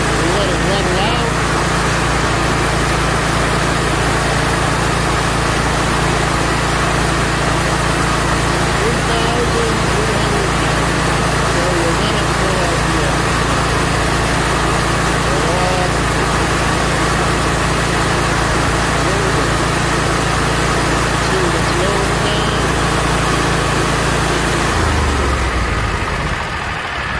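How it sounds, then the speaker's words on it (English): A small engine is run up to full RPM and holds there as a steady, loud, continuous drone that stays close throughout and drops away at the very end. "Now we're going to go up, full RPM, see what we got. We let it run it out."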